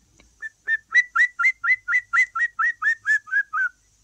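A person whistling an imitation of a green woodpecker's call: about thirteen clear, evenly spaced ringing notes in a steady laughing series, close and alone, sliding slightly lower toward the end.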